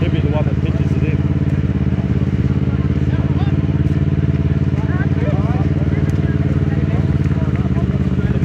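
A Ducati motorcycle idles and revs with a steady, loud, throbbing engine drone at a creek crossing during a Laverda rally in Australia. Voices talk over the engine throughout.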